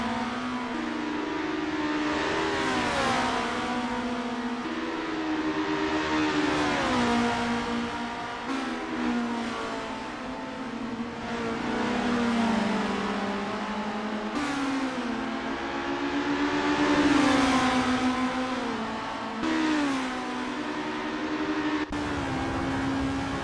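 Open-wheel formula race cars battle for position in Assetto Corsa at Mont Tremblant, engines roaring and revving hard with repeated rising and falling pitch sweeps through gear changes, loud and continuous with no talking.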